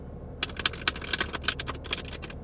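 Tarot cards shuffled by hand: a quick run of crisp, close clicks and snaps in an uneven rhythm, starting after a brief quiet moment and continuing to the end.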